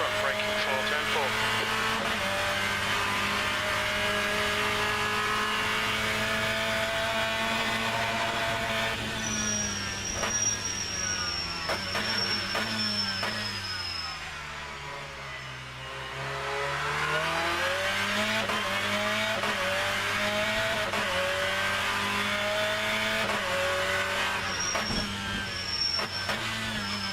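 A BTCC race car in rFactor 2 at the Norisring revs hard in a continuous, loud engine whine that sweeps up through the gears and dips sharply mid-way under braking before climbing again.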